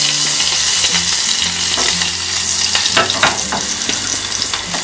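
Chopped green chili and a pinch of hing roast in a hot pan for chutney, giving a loud, continuous sizzle with occasional stirring scrapes and clicks and no talking.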